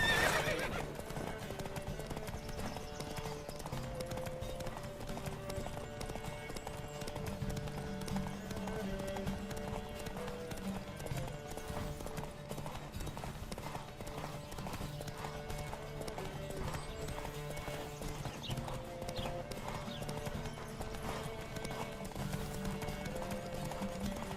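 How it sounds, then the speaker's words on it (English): A horse gallops in a race in the video game The Witcher 3: Wild Hunt, with steady rapid clip-clop hoofbeats and occasional whinnies over a constant musical bed, close and continuous throughout. "Pues nada, carrerita de caballo."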